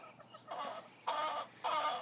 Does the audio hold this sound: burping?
no